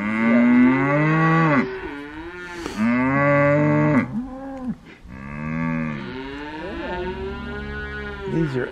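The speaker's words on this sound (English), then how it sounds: "These are Angus and they're nice cows." Several Angus cattle moo loudly and close by, long drawn-out lowing calls one after another with brief pauses between them.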